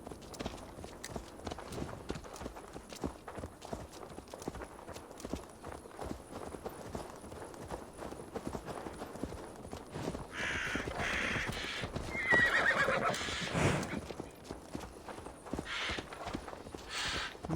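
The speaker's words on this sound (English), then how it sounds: "Riding on my horse." Horse hooves clip-clop steadily in Assassin's Creed Valhalla, with a whinny rising near the end over a busy game soundscape where crows caw in the background.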